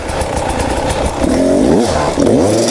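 A motorcycle engine blips and revs while the rider pops a wheelie, loud and close, with rising and falling engine pitch over steady rumble and road noise.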